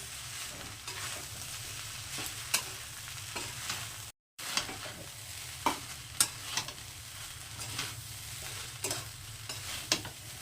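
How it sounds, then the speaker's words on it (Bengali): Gobindobhog rice for egg chicken fried rice is stirred and fried in a pan over medium heat, a continuous sizzle broken by sharp spatula scrapes and taps, with one brief dropout partway. "ভাতগুলো সব মিশিয়ে নেবো"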